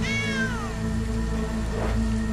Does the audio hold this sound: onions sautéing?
no